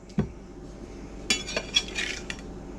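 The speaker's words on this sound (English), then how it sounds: "I'll get out my spatula here. We're just gonna flip them over." A metal spatula scrapes and clinks against a pan while flipping seasoned hamburger steaks, with a few sharp scrapes spaced out over a low background hiss.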